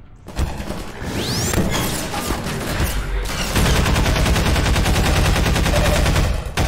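Rapid, loud close-range gunfire in Half-Life 2 RTX, rattling bursts that continue almost unbroken for several seconds with mechanical clatter and crashing impacts mixed in.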